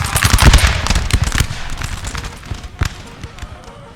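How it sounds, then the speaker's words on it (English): Musket volley from a British line of infantry in a Napoleonic Total War battle at Vitoria, 1813: a loud rippling crackle of many shots at once, tapering into scattered pops. "Britain needs to open fire. Give them a volley, boys."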